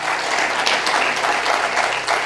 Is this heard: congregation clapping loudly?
yes